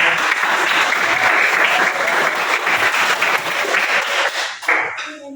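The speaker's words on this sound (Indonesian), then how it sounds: "beri aplaus dulu, tepuk tangan untuk" A classroom audience gives steady, dense applause for two student groups that have just finished presenting, loud and sustained for about five seconds before trailing off.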